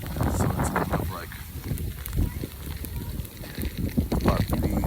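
Strong, gusty wind blows during a January snowstorm in Portland, with ice, snow and sleet at about 14 degrees, rumbling loudly into the microphone while a person talks over it.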